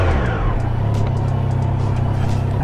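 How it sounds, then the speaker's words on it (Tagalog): A Triumph Trident 660 motorcycle idles loudly right after a cold start, its engine giving a close, steady, even rumble with no pauses. "cold start lang natin tong ating motor"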